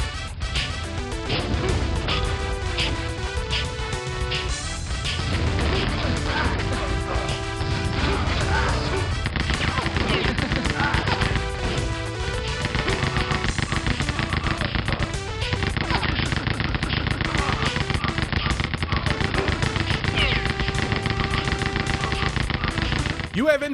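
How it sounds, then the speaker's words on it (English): Rapid nonstop gunfire in the first-person shooter Rise of the Triad, dense bursts and crashing impacts layered over game music and effects, loud and continuous. "You have infinite bullets, never stop shooting."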